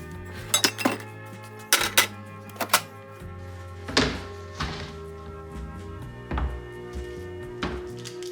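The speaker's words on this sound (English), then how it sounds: "I think I'll get started on cutting up our vegetables" A knife cuts vegetables on a cutting board in a home kitchen: irregular clunks and taps with a few sharper knocks, spaced unevenly, close and moderately loud with no talking.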